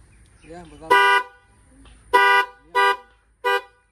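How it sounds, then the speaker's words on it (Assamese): A 2015 Wagon R fitted with a Hyundai Creta horn sounds four loud, close honks: one longer blast, then three shorter toots in quick succession, with a brief voice just before the first. "ক্ৰেটাৰ হৰ্ণ লাগি আছে মানে গাড়ীত।"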